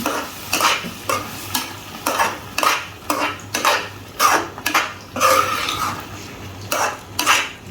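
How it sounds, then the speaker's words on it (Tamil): Dal fry, with tomato and onion, is stirred vigorously in a pan: a rhythmic run of loud scraping strokes and metal clinks over a low, continuous sizzle, close by and with no voices. "இப்போ இதில் வந்து நம்ம இந்த டாலை எடுத்து இது நல்லா கலந்து விடுங்க"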